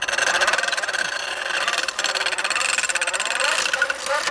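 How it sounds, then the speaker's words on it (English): Geared hand-cranked grinder with a fast-spinning wheel regrinding the bevel of a hand tool, a continuous close grinding whir with a rhythmic pulsing texture throughout. "This is a hand grinder, but it's geared to make the wheel go quite fast"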